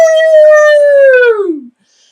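A voice imitates a dog howling: one loud, sustained howl that holds steady and then slides downward before cutting off, with nothing else heard.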